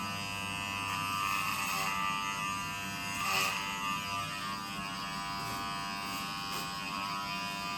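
Electric hair clippers set to an 8 guard, about one inch, buzz steadily and close through a haircut, a continuous hum that swells slightly as they move through hair, with no talking.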